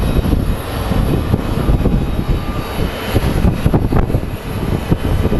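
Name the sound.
airliner arriving at Phoenix Sky Harbor International Airport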